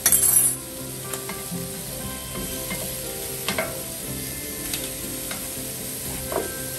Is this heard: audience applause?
no